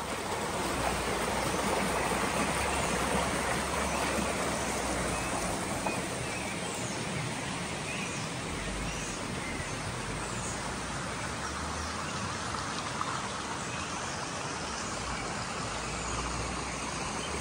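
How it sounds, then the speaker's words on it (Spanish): A river near the Santa Rosa de Cabal hot springs in Colombia's coffee region rushes in a steady, dense, even wash of water noise that holds the same level throughout, with no voices. "Y aquí te dejo el sonido del agua y los pajaritos."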